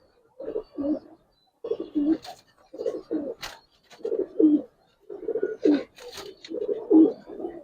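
A female silver Giribaz pigeon coos in a steady series of soft, low, throaty phrases with short pauses between them, close by and clear, with faint chirps from other birds now and then.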